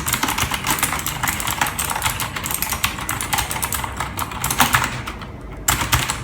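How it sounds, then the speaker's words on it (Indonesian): Rapid, continuous typing on a Mica Vector S TKL SE mechanical keyboard, with dense clacky keystrokes close to the microphone and a few louder strikes, heard alone without speech. "alasan kita membeli ini tuh ya karena dari suara keyboardnya"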